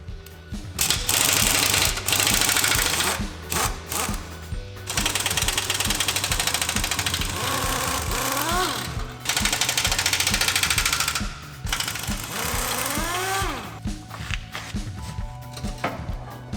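Hand tools rattle and clank against a 1971 Camaro's steering box during removal, with rapid ratcheting bursts, metallic scrapes and brief pauses, loud and close throughout.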